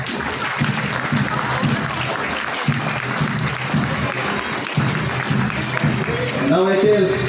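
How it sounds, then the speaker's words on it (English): Sustained, full applause from a large outdoor crowd cheering marching school contingents at an Independence Day event on a Bangalore sports field, steady throughout, with an announcer's voice rising over it near the end. "Let's clap for them."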